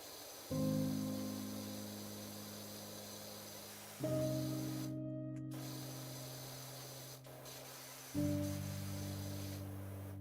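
A pressure washer sprays dirt off surfaces in a video game, heard as three long, steady hissing bursts that each start abruptly, with a faint tonal whine and no talking.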